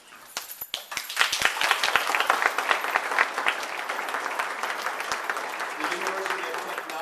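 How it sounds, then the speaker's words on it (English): A crowd in a hall applauds standing scholarship students from Vietnamese universities with sustained, dense clapping that starts with a few claps and then holds steady at full volume. "I'd like to ask everybody to acknowledge them with a round of applause"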